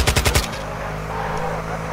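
Rapid machine-gun bursts in Call of Duty Warzone 2.0 open the clip, a quick run of loud sharp shots, then give way to a steady engine-like rumble of a driven vehicle.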